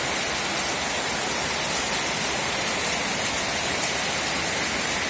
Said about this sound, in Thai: ฝนตกหนักแล้วครับตีห้า